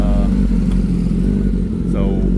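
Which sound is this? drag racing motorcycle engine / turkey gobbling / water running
drag racing motorcycle engine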